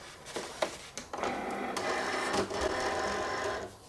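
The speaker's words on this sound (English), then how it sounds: "I'm just gonna load this into my Cricut." A Cricut cutting machine pulls a cutting mat loaded with vinyl into itself, giving a steady mechanical whir and feed rattle with a few clicks at the start, close by and with no talking.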